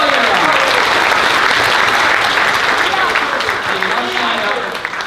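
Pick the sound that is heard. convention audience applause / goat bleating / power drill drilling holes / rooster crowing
convention audience applause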